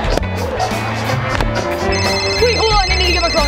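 A phone rings during a backyard Nerf battle, its electronic ringtone chirping in bright repeated tones that rise into a melodic trill near the end, close and fairly loud over a low background hum.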